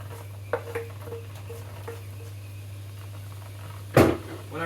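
Cooking pans get swapped on a stovetop: a few light metallic clinks and scrapes sound early, then one sharp, louder clatter of a pan set down, over a steady low hum.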